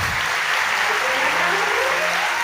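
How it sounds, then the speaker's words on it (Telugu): Church congregation clapping together, a dense, steady wall of applause filling the hall from start to finish, with faint tonal music or voices underneath. "చప్పట్లు కూడా దేవుని మయం పడదాం ఈ బిడ్డల బట్టి"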